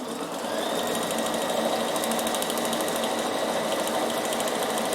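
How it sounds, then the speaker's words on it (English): A sewing machine runs steadily while stitching lace onto lingerie, its needle whirring in a fast, even rhythm, close and continuous throughout with no talk. "I'm going to sew down this side."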